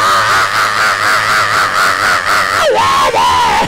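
Church congregation at a Baptist church appreciation service shouting and screaming praise together, a loud, sustained mass of raised voices with rising cries near the end.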